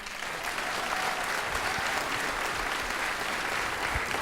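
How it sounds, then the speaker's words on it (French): A show audience claps steadily as performers are led offstage, a dense, even wash of applause that stays loud and unbroken throughout, with no voices on top. "Sous vos applaudissements"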